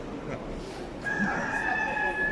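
A rooster lets out a long crow midway through, over a busy background of murmuring voices and bustle at an outdoor market in Krasnodar selling poultry, eggs and animals.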